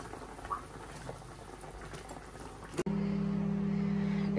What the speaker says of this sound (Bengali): ঝোলটা ফুটে উঠছে, এখন মাছটা দিয়ে দিই